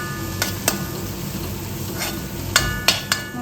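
Grated ginger and garlic frying in a pan, a low steady sizzle with a few sharp scraping stirs of a spatula, close up with no talking.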